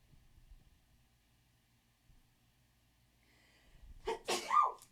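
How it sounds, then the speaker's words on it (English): A single sharp sneeze close to the microphone, preceded by a quiet indrawn breath in an otherwise still room. "Hold on, I have to sneeze."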